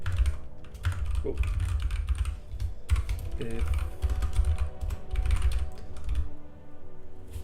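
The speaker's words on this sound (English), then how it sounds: "I do find it also nice, you know, to hear the keyboard" Fast typing on a Mac computer keyboard, rapid clicking bursts with brief pauses, fairly close, with a short spoken word partway through.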